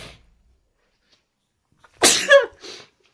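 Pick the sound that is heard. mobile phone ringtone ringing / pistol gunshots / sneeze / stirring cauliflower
sneeze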